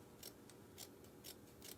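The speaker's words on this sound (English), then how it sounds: "These are not the best scissors." Snips of a pair of mediocre scissors cutting material for rustic Easter bunny decor, four or five crisp, evenly spaced cuts close up with no talk.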